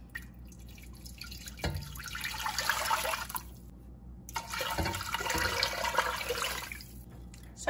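Tap water runs into a soup pot in two bursts of splashing pour, close by and moderate, with a short pause between them and no talking.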